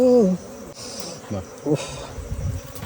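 Bees from an underground honey nest swarm around someone's face as the honey is gathered, making a loud, close, continuous buzz that swells and fades as they circle. A brief voice is heard at the start.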